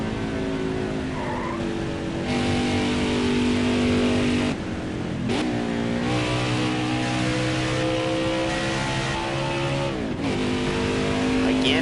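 Truck Series race trucks roar around Pocono Raceway in a sustained loud engine blare, with pitch sweeps and sharp dips as trucks pass by, and tire squeal and skidding mixed into the racing noise.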